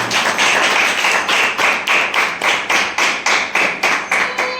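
A church congregation claps together in praise, a loud, close, rhythmic stream of unison hand claps at a steady beat with no talking.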